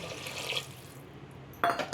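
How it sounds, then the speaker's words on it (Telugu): Water pours into a cooking pot of rice and moong dal, a low running trickle that swells into a brief louder splash near the end, with no talking. "సో ఈ కప్పుతో నాలుగు కప్పులు వాటర్ వేసేసుకున్నాం"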